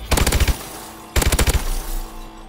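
KF5 submachine gun in Call of Duty: Advanced Warfare fired on a firing range in two quick close bursts of about six rapid shots each, loud and sharp, with a short pause between them.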